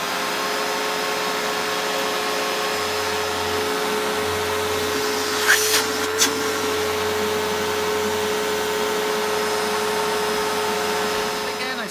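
A Panasonic MC-E44 700 watt vacuum cleaner runs indoors with a steady whining roar throughout, broken briefly by a couple of quick clattering knocks midway, while a person's voice is faintly present under the motor.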